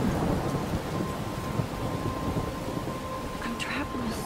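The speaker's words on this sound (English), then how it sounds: "I'm trapped in a storm?" A thunderstorm in the video game Life is Strange: a steady, loud wash of heavy rain with a low rumble running continuously throughout.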